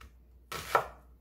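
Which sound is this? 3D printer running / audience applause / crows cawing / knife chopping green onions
knife chopping green onions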